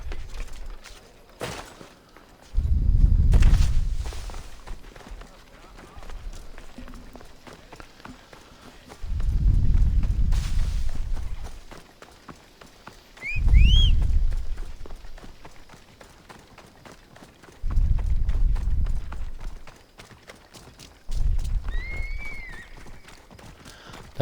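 Horse hooves pound in repeated bursts of heavy thudding, each run lasting a couple of seconds with quieter gaps between, plus a few short high squeaks, in the video game Assassin's Creed Odyssey.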